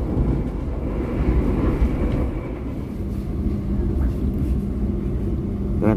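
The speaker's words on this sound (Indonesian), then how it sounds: "Tapi yang saya lagi masuk stasiun Madiun kereta api Jayakarta." Jayakarta passenger train rolling into Madiun station, a steady, loud low rumble of wheels and carriage noise heard from on board, continuous throughout.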